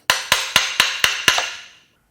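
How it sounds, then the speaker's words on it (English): A hammer taps a Mercedes M278 bi-turbo V8 engine timing cover six times in an even, quick rhythm. The close, crisp knocks ring briefly, then fade into silence. "Let's give it some taps with this hammer."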